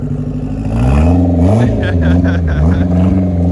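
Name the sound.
all-wheel drive car doing donuts in icy snow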